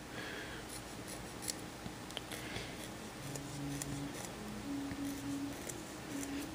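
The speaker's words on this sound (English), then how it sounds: "so I'll just scrape that off" Scraping leftover material off a surface with a hand scraper, a soft continuous rasping with faint ticks and brief tonal squeaks, steady and close.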